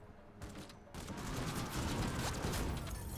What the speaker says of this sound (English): Try out this new assault rifle.